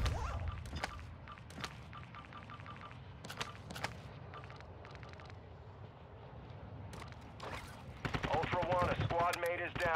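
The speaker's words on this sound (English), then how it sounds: "You are taking effective fire." Gunshots and bursts of machine gun fire crack out in a military video game, some close and sharp, others scattered, with radio-style voices talking between the volleys.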